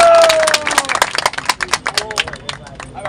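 An audience at a Ramlila committee gathering claps, a dense burst of applause that thins into scattered individual claps over a few seconds, close and fairly loud.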